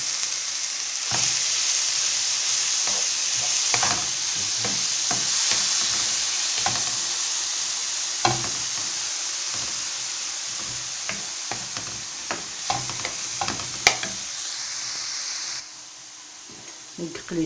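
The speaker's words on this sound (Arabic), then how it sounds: "نقلي شويه البصل" Onions frying in hot oil give a steady, close sizzle, broken by repeated stirring scrapes and sharp utensil knocks, and the hiss drops away near the end.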